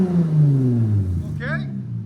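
Car engine revving through an aftermarket muffler, a loud close exhaust drone that rises then settles, with a brief voice cutting in near the end.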